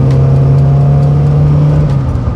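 A car engine revs loudly at a car show held indoors in a shopping mall, a steady strong drone that holds for about two seconds before easing slightly, close and continuous with no talk over it.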